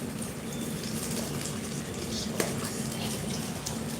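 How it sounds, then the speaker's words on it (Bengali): Native koi fish (climbing perch) frying crisp in hot oil, a steady dense sizzle that holds evenly throughout, close and moderately loud, with no talking over it. "কালকে ধরা হয়েছিল আজকে ভেজে রান্না হচ্ছে ভাজা ছিল খানিকটা একটু কড়া করে ভাজা হচ্ছে"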